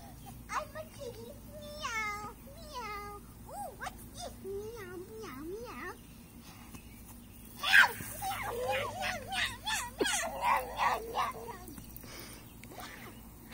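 A child makes a string of high, wavering meows imitating a cat, several in quick succession, with a brief burst of louder vocal mewing near the end.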